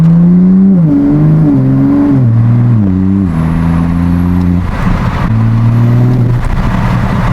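A loud Toyota Supra engine with an aftermarket intake revs in stepped bursts, pitch climbing and dropping as it shifts, with a steady droning roar throughout and no talking.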